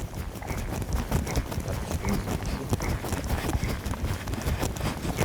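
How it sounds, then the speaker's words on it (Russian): A horse moving at a rising trot, its hooves clip-clopping in a steady, continuous two-beat rhythm close by, loud throughout with no talking. "Рысью нужно ездить вот так вот. Это называется облегченная рысь"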